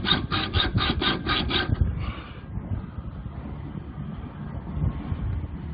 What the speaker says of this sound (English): Shorten the excess length off your bolts by using your handsaw or your power saw.